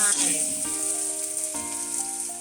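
Egg white and rice are stir-fried together in a pan, giving a close, continuous sizzle with light scraping and stirring.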